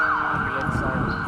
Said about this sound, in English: Shame there's been ruined by sirens.